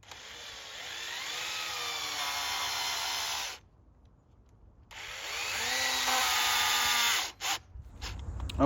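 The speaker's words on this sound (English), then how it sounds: "we drilled out and screwed the jar lid onto the bottom of the jar so that the hole lines up" A step bit drills a hole through a metal jar lid in two runs, each a loud whining grind with pitch shifting as the bit steps up, separated by a pause and ending with short bursts.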